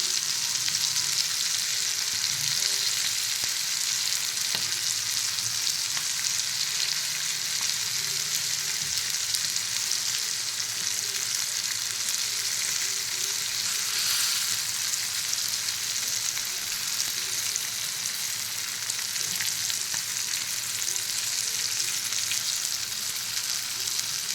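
Fish frying in a pan after being flipped, spread with a ground masala, makes a strong, even sizzle that holds steady for a long stretch with no talking.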